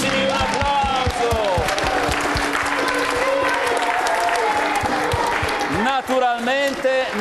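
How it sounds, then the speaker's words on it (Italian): Loud, sustained audience applause with cheering fills a ski club's live show in Valle Camonica, dense clapping running throughout while an excited voice calls out over it near the end. "un applauso!"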